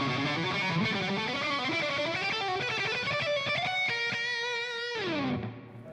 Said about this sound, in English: you can also do upstroke and 2 pull-offs instead of downstroke and pull-off